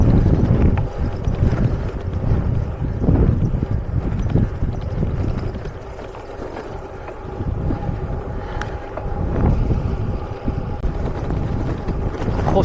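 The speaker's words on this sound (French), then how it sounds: "Et j'ai un vent de face" A headwind roars and buffets around a lone cyclist on an open road with dry air, a low gusting rumble that swells and eases, with no speech.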